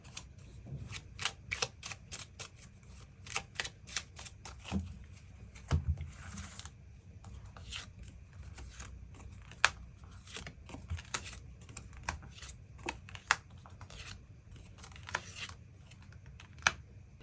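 Tarot cards being drawn and handled for a love reading, a steady run of soft, close snaps and shuffling flicks with brief pauses, fairly quiet and alone with no talking.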